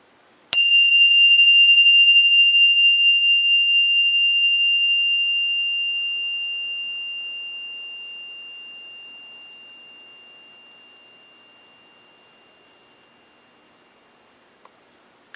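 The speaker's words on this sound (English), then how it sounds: "hear the sound and follow the bell." A single bell is struck once, ringing out clearly and then fading in a long, pure sustained tone over many seconds into silence.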